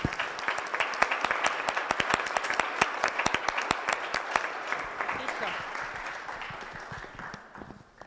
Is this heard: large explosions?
no